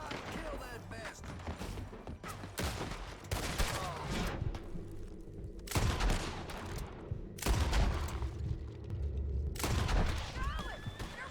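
Old-west shootout gunfire from Red Dead Redemption 2, repeated loud rifle and pistol shots cracking in bursts across the scene, some clustered, with echoing booms and faint shouting voices between volleys.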